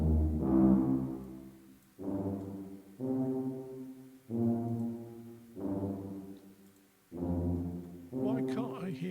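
Spitfire orchestral tubas soloed with reverb sound a series of six long, low brass swells, each rising and fading with a reverberant tail, played fairly quietly and without speech.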